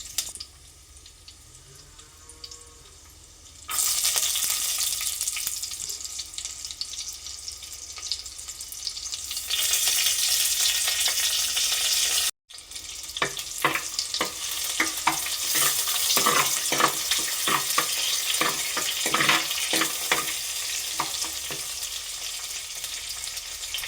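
Crushed garlic, ginger, green chillies and curry leaves hit hot coconut oil for a Kerala tomato curry, a loud steady sizzle that jumps up partway through, breaks for an instant, then crackles on with stirring and sharp pops, with no talking.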